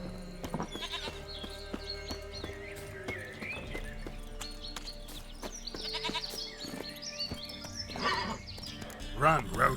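Roach, a horse in the Witcher 3 game, whinnies and neighs in several calls among hoofbeats and other game sounds, growing louder toward the end, with voices mixed in.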